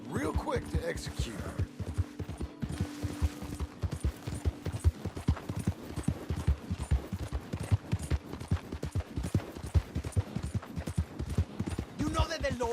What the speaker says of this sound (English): You hear those horses? Those shots?